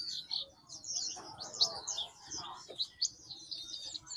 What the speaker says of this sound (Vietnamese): Ở đây là một cửa hàng chuyên nuôi những cái dòng chim nhỏ dị.